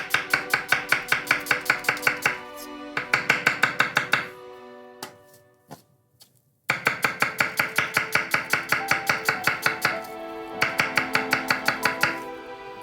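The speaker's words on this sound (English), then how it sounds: "These ones we're gonna slice, and we're gonna slice them nice and thinly." A knife thinly slicing halved onions for a three-Michelin-star chef's onion soup: rapid, evenly spaced crisp strokes on a cutting board, in close bursts separated by brief pauses.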